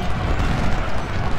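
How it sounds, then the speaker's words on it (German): Cannon artillery fire in Ultimate General: Civil War, a dense rumbling barrage of booms layered over each other, loud and continuous across the battlefield. "Kanonen."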